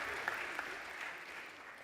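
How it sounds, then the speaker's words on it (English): Faint, distant applause from a conference audience for forum panelists, a soft smear of clapping with a couple of sharper claps early on, fading slightly toward the end. "Let's give them another round of applause"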